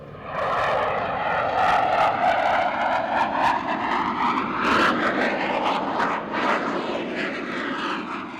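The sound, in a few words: F-15 fighter jet low-speed pass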